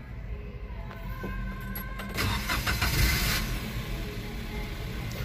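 A small three-cylinder 1.0 engine of a 2016 Daihatsu Hi Max with manual transmission cranks and fires up, giving a brief louder burst of starter and ignition noise that then settles into a steady, close idle, with no talking.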